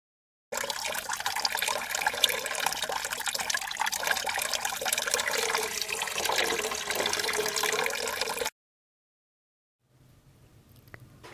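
Water poured in a steady splashing stream for several seconds, close and fairly loud, then cut off, followed by a faint trickle and a few soft drips.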